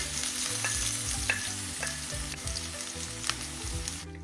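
Garlic and onion frying lightly in olive oil, a steady crackling sizzle held close with a few faint clicks of a utensil scattered through it, and no one talking.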